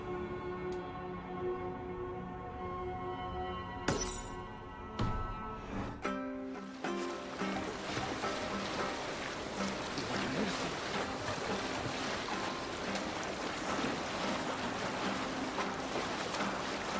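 A Viking longship sets sail in Assassin's Creed Valhalla as musical tones and a few sharp hits give way to a steady wash of water and waves against the hull, continuing evenly to the end.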